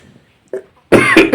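A man gives a faint short throat sound and then two loud, close coughs in quick succession, sharp and harsh.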